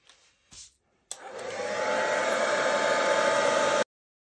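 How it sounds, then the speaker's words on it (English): A couple of short clicks, then a hair dryer starts up and blows with a steady, loud whoosh for a few seconds before cutting off. "then I'm going to blow that out with my hairdryer."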